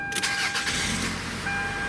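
A car engine cranks and catches after its burglar alarm wiring has been disconnected, settling into a steady running hum close by with no talk over it.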